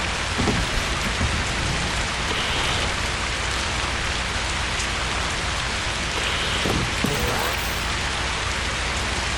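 Steady, heavy rain from the driving game Keep Driving, a dense continuous downpour filling the whole clip at even loudness, with a few faint low rumbles like distant thunder and no talking.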